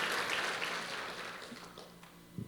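A church congregation applauds during a sermon, a broad patter of many hands that gradually fades over a couple of seconds, ending with a soft thump.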